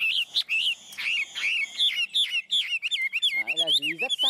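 A hwamei, a Chinese songbird with reed-coloured plumage, sings close by in a run of bright, varied whistled phrases that rise and fall, building into rapid trills and slurred notes near the end.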